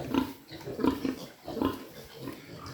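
Native piglets in a litter of ten grunt and squeal close by in short repeated bursts, about three rhythmic clusters of oinking over a few seconds with no talking.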